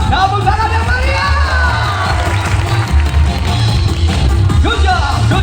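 A circus audience claps and cheers loudly and steadily, a dense crowd roar with whoops rising over continuous applause, while a voice talks over the crowd.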